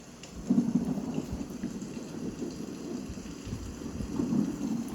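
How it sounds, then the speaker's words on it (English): Low rumbling thunder rolls through a steady hiss of rain, swelling near the start and again toward the end, fairly faint and distant. "listen to that thunderstorm."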